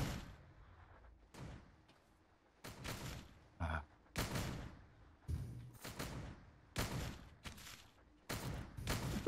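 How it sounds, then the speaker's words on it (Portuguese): Gunshots ring out in the party video game Pummel Party as a string of about eight sharp, punchy bursts spaced unevenly over a quiet background. "O tiro não pega?"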